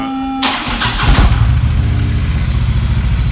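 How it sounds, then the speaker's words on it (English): A motorcycle engine cranks, catches and settles into a loud, steady idle close by, its low rumble throbbing evenly after the start. "this is the bike started up"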